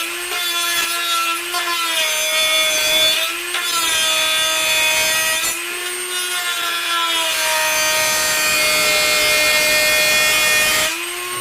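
A blade cuts and grinds down plastic in loud, continuous rasping strokes with a whining edge, broken by short pauses as each pass ends and starts again.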